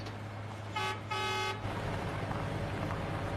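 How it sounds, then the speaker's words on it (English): A car horn honks twice in short succession, loud and near, over a low engine rumble that continues afterward. "Honk your horn, maybe he'll see us."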